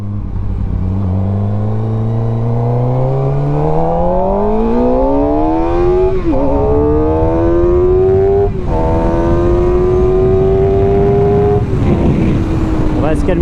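A QJ SRK421 RR motorcycle accelerating hard at high speed, with a loud, close engine note that climbs steadily through several gear changes and briefly dips at each shift, heard over constant wind rush.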